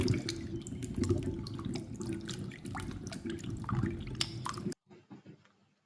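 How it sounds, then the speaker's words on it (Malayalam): Gooseberries being washed in a basin of water, with close sloshing, splashing and dripping for several seconds before a brief quieter tail of small drips and squishes. "നല്ല വെള്ളത്തിൽ രണ്ടു മൂന്ന് പ്രാവശ്യം കഴുകിയെടുക്കണം"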